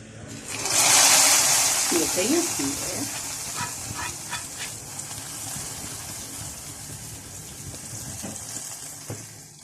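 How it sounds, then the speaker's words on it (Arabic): Browned fried garlic poured onto Egyptian molokhia sizzles with a bright, broad hiss that surges loudly at once, then settles into a steady softer crackle, with a few clinks of a utensil. "الثوم بتاعنا احمر، هنحط على طول على الملوخيه"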